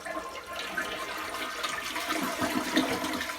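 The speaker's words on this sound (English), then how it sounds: "So you flush." A household toilet flushes, a steady rushing wash of water that holds for several seconds and swells slightly toward the end, close and alone with no voices.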